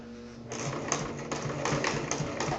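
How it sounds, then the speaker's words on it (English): A sewing machine stitches fabric while altering a strapless dress into a halter, running in a continuous close mechanical whir with rapid needle pulses, briefly pausing and shifting as it stitches forward and back. "whenever you're sewing, you always want to do a couple stitches forward, then a couple back, and that creates a knot."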